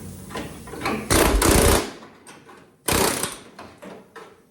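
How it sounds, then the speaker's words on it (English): A spot weld remover drills through a car floor pan near the torque box in two short, loud, grinding bursts, with quieter scraping and handling noises between them. "I'm pretty sure spot weld and remover tool will take care of that right quick, right through here"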